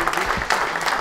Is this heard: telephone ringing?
no